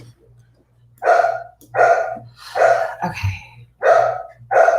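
Several dogs bark in loud bursts, about five barks spaced roughly a second apart, close to the microphone over a low steady hum, with a brief low thump midway.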